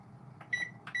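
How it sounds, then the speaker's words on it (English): A kitchen timer is set while chili bakes in the oven, giving two short, bright electronic beeps about half a second apart, close by in a quiet kitchen. "let me set the timer here"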